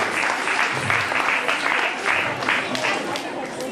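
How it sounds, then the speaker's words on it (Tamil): An audience applauds at a church Christmas festival, a dense, sustained round of clapping close and loud from start to finish. "கரகோஷம்"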